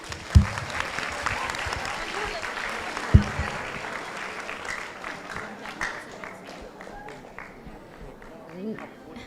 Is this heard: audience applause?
yes